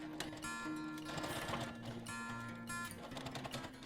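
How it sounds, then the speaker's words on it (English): A sewing machine runs continuously along the edge of a fabric strap on a Bali-inspired boho bag, a close, steady whirring with rhythmic mechanical clatter and pulsing bursts of faster stitching. "sew along the edge of the strap"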